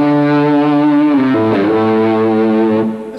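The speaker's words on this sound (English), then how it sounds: "This would be a basic sound that I would use for my distorted tone." An electric guitar plays a distorted tone on the treble pickup with reverb on: sustained, harmonically rich chords ring loud and close, shift pitch midway, then fade at the end.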